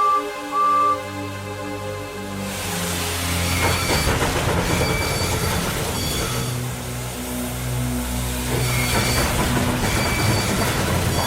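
A steam engine named Edward strains to start a heavy train, his wheels slipping on the rails in a continuous rushing, clattering churn over a steady musical backdrop.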